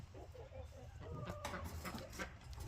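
A two-month-old chicken gives soft, faint clucks and chirps at close range, with brief quiet calls over steady background noise.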